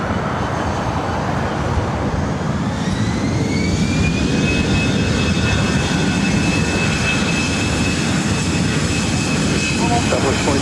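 A Southwest jet takes off from runway 24 right at LAX, its engines roaring loud and steady throughout, with a rising whine building in the middle of the roll amid airport background noise.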